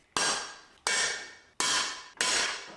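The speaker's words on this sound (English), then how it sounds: "I'm going to use a punch and a hammer, and I'm going to hit it right in the center" Four sharp hammer blows on a center punch against a metal anchor plate for a winch, evenly spaced about three-quarters of a second apart, each a bright close metallic crack with a short ringing decay.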